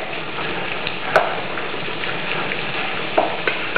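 Garbanzo beans and radish cook in a pan for eggs alla cata, producing a dense, even sizzle close by with a couple of sharp stirring clicks, and no voices.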